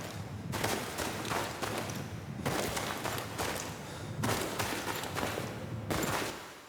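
Running footsteps in a video game, treated with heavy cave-like reverb, thump in loud, steady bursts with wind-like noise washing between them and a booming, echoing tail.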